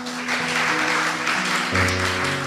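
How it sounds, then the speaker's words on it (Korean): A church congregation claps steadily and warmly during a worship service, with music playing underneath throughout. "하나님께 모든 영광의 박수 올려드리겠습니다"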